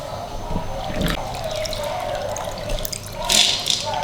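Soaked wheat and its soaking water poured into a pressure cooker, giving a soft splashing trickle with a brighter burst of pouring near the end, heard close up.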